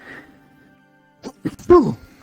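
A small sneeze from a dog, a quick sharp burst followed by a snort, heard close in a quiet workshop after a soft hum.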